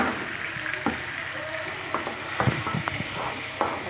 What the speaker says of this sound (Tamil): அப்புறம் தக்காளி ஆட் பண்ணிக்குவோம்.